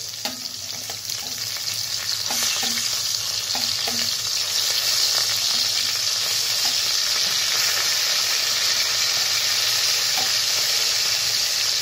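Koi fish frying in hot oil, a loud continuous hissing sizzle with a few soft knocks as the pieces are turned over, close and steady throughout.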